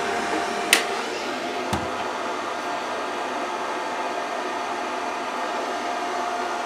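The cooling fan of a Vevor 130 amp MIG/TIG/MMA inverter welder runs with a steady close whir and hiss, broken early by a couple of brief clicks.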